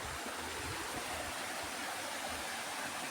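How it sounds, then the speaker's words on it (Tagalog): Waterfall at Otso Otso Falls on Mt Balagbag, a steady broadband rush of falling water with low churning rumble, continuous and close, with no voices. "Hidden falls."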